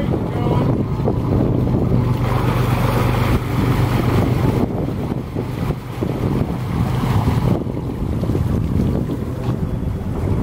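Single-engine boat maneuvering to dock in a steady 15-knot wind, with a continuous low engine rumble under heavy wind buffeting and water noise, loud and unbroken throughout.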